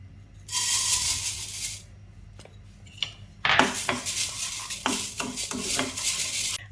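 Rice dry-roasting in a pan over a low flame is stirred continuously. Bursts of dry, hissing, rattling scrapes come close and clear, separated by a brief quieter pause with a few clinks of the utensil.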